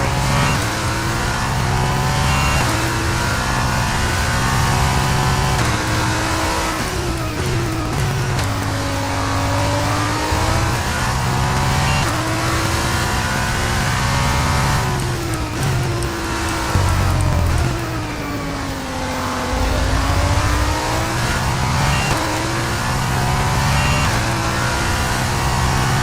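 Race car engines in an F1 23 feature race howl continuously, their pitch rising and falling through upshifts and downshifts, with steady high-revving drive and no pauses.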